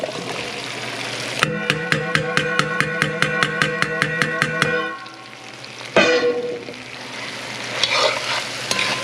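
Broccoli goes into a frying pan already holding cauliflower, bringing a rapid run of rhythmic stirring clacks over loud sizzling, then a quieter steady fry with a sharp burst of spitting oil.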